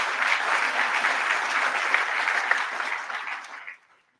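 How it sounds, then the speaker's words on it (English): Crowd applause at an event in Albany during a visit by the Dutch king and queen, a dense, even wash of clapping that holds steady, then thins and fades out near the end. "that deserves a round of applause."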